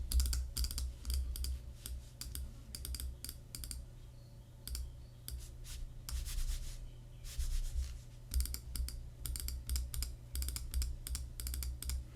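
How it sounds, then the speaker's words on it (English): Dense, continuous clicking and tapping, close and crisp, in quick irregular bursts over a low hum, sounding like a regular Apple mouse and keys worked together, picked up by a FiFine K678 USB microphone. "it can actually hear what you're typing, what you're clicking"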